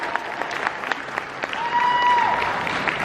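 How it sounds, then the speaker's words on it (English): Audience at a horror convention in Lexington, Kentucky claps and cheers for a young contestant, scattered hand claps building into fuller applause with crowd murmur and a brief whistle. "Get another round of applause."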